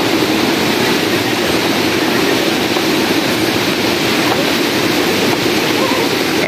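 Strong water rushing beside a muddy mountain trail, a loud, steady broadband roar with no break throughout.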